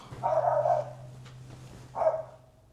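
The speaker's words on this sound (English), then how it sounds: "My dog's barking outside." A dog barks twice in short bursts, a second apart, somewhat muffled from outdoors, over a steady low hum.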